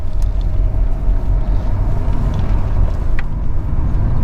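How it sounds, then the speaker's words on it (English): An Audi 80 with a 90-horsepower engine accelerating hard on open road, a loud steady engine rumble with road and wind noise filling the cabin, no talk over it. "Into 3rd, the mighty 90 horsepower deployed to the full."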